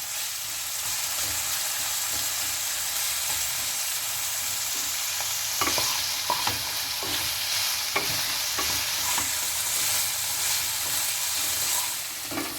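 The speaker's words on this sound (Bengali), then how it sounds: "আর একটু ভাজা ভাজা গাজর আলু এগুলো ভাজা ভাজা হয়ে যাক" Carrots and potatoes fry in a pan for a mixed vegetable sabzi, giving a steady close sizzle with scraping stirring strokes and soft clicks that become more frequent in the second half.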